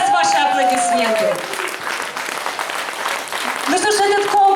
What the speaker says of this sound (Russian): И еще раз ваши аплодисменты.